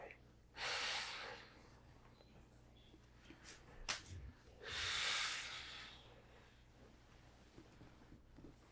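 Deep, loud breaths during a hands-on fascia treatment: two long, forceful inhale-exhale swells about four seconds apart, with a brief sharp gasp between them over a low steady hum.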